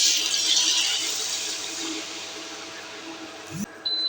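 Cream pours steadily into a pan of seafood pasta sauce with a smooth, rushing hiss that fades, ending in a brief clunk.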